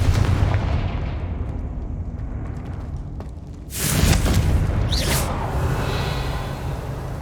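Blasting spell cast in Hogwarts Legacy, a PC fantasy game, set against a steady rumbling backdrop; a loud whooshing burst and explosive boom hit midway, followed by a second sharp blast and a fading rumble.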